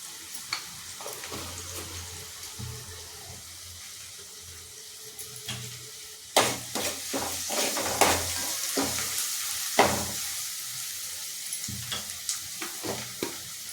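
Asafoetida dropped into hot oil while cooking misal, a soft background hiss that bursts into louder crackling sizzles and stirring clatter partway through, then keeps spitting and popping.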